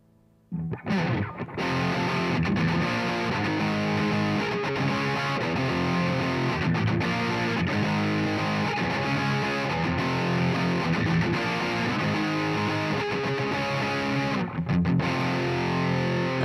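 Electric guitar played through a Line 6 POD preset with heavy distortion, a rhythmic, dense and loud part sustained from start to finish with no talking.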